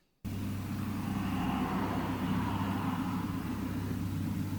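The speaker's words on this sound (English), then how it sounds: "There was a car going past." A car passes along a road at night, a steady loud rumble that starts abruptly and holds fairly constant throughout, with no voices.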